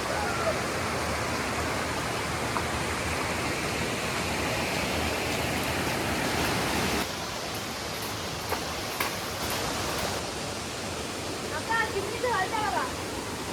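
Continuous broadband rush of a stream running through a village, loud and steady throughout, with a few faint splashes and clicks in the latter half.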